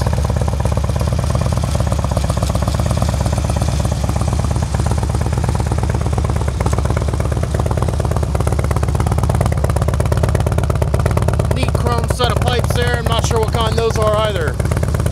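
A 2007 Harley-Davidson Street Glide FLHX V-twin idles up close with a steady, loud, low rumbling throb that holds evenly throughout, with some brief voice-like sounds near the end.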